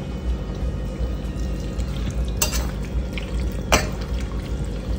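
A spoon stirring white sauce pasta with chicken and vegetables in a pan, soft wet churning under a low steady hum, with two sharp clinks of utensil against the pan.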